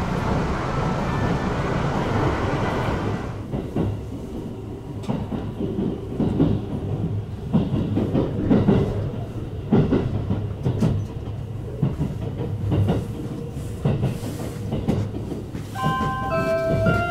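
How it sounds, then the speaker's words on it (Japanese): A train runs on its rails through a sweeping right-hand curve toward Tsuruoka, a steady rumble with rhythmic clickety-clack from the wheels, persisting close and moderately loud with no talk over it, and a few faint tonal chimes near the end. "列車は大きく右にカーブして間もなく鶴岡に着きます。"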